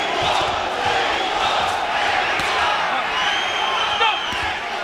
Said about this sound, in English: They're cheering Mexico. Mexico.